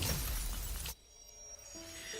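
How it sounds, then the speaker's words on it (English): A protocore cluster in Love and Deepspace shatters in one loud, bright crash that cuts off abruptly, followed by a faint shimmering electronic ambience. "As the protocore cluster shatters, a distant tremor ripples through the air"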